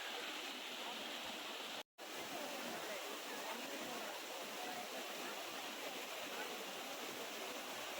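A waterfall roars in a steady, dense rush of flowing water, close and continuous. There is one brief dropout near the start.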